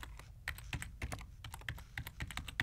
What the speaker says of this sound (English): I can set the author to be me by simply typing my name here.